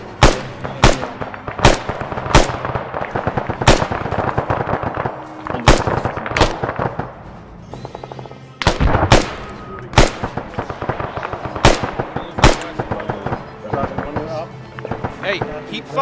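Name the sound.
gunfire from rifles in the video game ARMA 3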